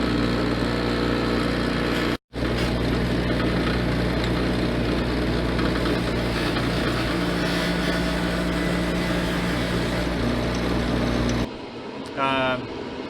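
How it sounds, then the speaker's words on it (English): A power drill whirs with a steady motor drone, boring a hole in wood for a crossbow trigger, pausing briefly once, then running on before shutting off near the end. "you're about ready to drill the hole for the trigger"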